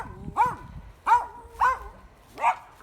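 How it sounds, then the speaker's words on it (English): A neighbourhood dog barks four times in separate, evenly spaced woofs, fairly close and clear, with quiet outdoor background between the barks and no talking. "Oh, and the neighbourhood bucky dog."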